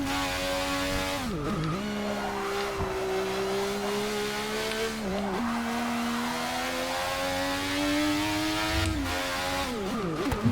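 Ayrton Senna's McLaren Honda MP4/4 race car in Forza Motorsport 6, its engine note holding a steady high drone with sharp dips on gear changes and rising again under acceleration, loud and close throughout.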